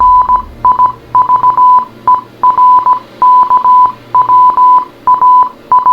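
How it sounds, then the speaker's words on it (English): Loud electronic beeps in rapid, irregular clusters resembling Morse code, closely spaced tones repeating steadily throughout with brief gaps, alone and without talk. "Audio from the final video posted sounds like Morse code"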